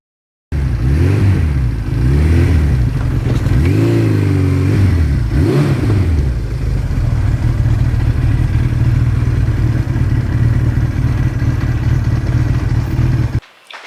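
A 1982 Suzuki GS1100E motorcycle engine sits idling close by, then revs up and down several times in quick swells before settling into a loud, steady idle until it cuts off.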